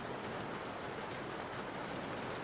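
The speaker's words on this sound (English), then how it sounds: "How does it feel being cold outside in the rain?" Rain falls steadily outdoors, a dense, even hiss of drops with no breaks, soft and uniform throughout.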